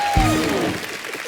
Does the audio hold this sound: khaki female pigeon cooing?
no